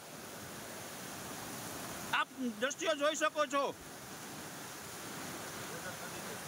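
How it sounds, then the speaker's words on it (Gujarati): Monsoon floodwater rushes fast down a river in Gujarat with a steady, loud broadband roar, briefly overlaid by a voice before the rushing continues alone. "આ પાણીને તમે ફ્લો જોઈ શકો છો કેટલી સ્પીડથી પાણી જાય છે"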